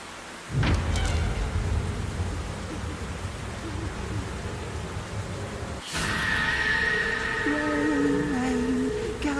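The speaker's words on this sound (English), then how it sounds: "Rain, go away." Steady rain hisses in the Black Mirror III adventure game, a broad continuous wash that swells louder partway through, with faint low rumbles and tonal game sounds underneath.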